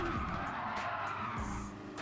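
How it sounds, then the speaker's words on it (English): Super Formula race car in a racing video game at Fuji losing grip in oversteer, tires skidding and squealing over a steady loud engine drone for about two seconds. "Oh man, that oversteer again."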